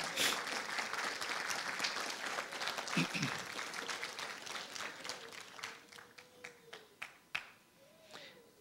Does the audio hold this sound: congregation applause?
yes